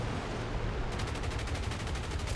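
Rapid aircraft gunfire from a P-40E fighter in the War Thunder combat game, a fast, even rattle of shots over a dense, constant engine and wind roar, with no voices.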